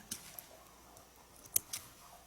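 Small thread snips cut fabric during a clothing construction class, making a few faint, crisp clicks spaced irregularly in a quiet room.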